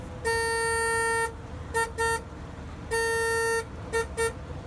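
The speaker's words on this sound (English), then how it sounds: "And then there's the horn, which leaves something to be desired." The horn of a first-generation Hyundai Equus sounds in a long blast, then two short toots, then another long blast and two more quick toots. The tone is thin and heard close up with no talking.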